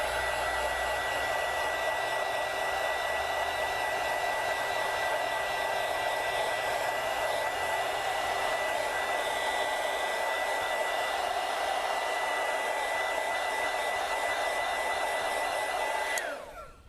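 A heat gun or hair dryer blows steadily and loudly to soften the adhesive on a Dell Chromebook 3100 screen bezel, a continuous airy whine that holds for about sixteen seconds before cutting off.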